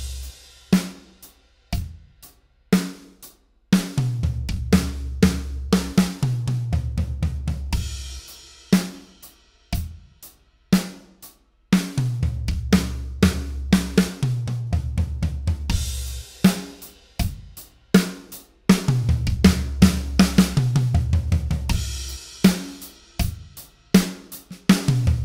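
A drum fill on a kit using a right-left sticking pattern, with kick drum, snare and floor tom. Sharp hits and rolling tom runs repeat in phrases over about twenty-five seconds, loud and close, with no voices.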